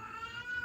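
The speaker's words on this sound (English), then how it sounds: "you don't need to do the meowing" A cat in heat meows indoors in a single short, faint, drawn-out call, with a low background hum and no talking.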